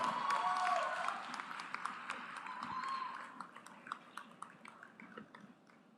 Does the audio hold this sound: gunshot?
no